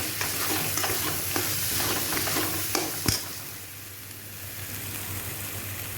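Ghugni sautés in a pan with an even, close frying hiss and frequent scraping stirs, and a sharper knock near the middle before the stirring eases while the sizzle continues.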